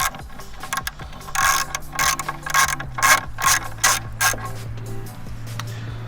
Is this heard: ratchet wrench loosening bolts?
yes